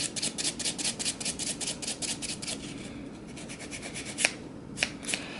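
Gel nail buffer edge sanding the grooved sides of sculpted artificial gel nails, a quick rhythmic scratchy rasp repeating in close strokes, then a few isolated sharper scrapes near the end.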